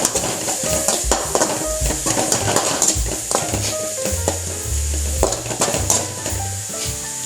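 Onion frying in a pan for a Mangalore-style soya chunks sukka, a loud steady sizzle broken by repeated scraping stirs, with music playing underneath.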